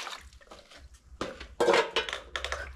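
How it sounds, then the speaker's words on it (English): Pots, pans and cutlery clatter and clink while dishes are washed during a morning routine in an African village, with irregular bursts of metallic knocks, a louder scraping clatter midway, close by and with no talk. "we are done with washing dishes"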